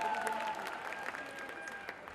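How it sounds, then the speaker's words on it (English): Audience applause at a Zumba concert event, a fairly faint, scattered clapping from a crowd with a soft background tone. "Round of applause, please."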